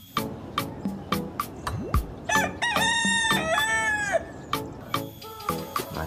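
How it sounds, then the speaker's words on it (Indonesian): A rooster crows loudly in a long wavering call, surrounded by sharp repeated clicks and a short rising swoop, nearby and clear, with no voices. "di sini ada si ayam jago."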